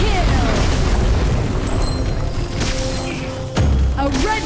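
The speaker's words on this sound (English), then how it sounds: "A red team tower has been destroyed." In the mobile game ROV, a deep boom bursts out as a tower is destroyed, with further thuds and game effects around it and an announcer voice heard too.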